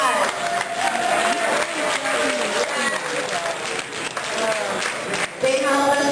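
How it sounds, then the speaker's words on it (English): A dinner crowd gives a lively round of applause at a Shamrock dinner, dense clapping mixed with cheering voices and chatter, loud and close throughout. "let's give them a big round of applause"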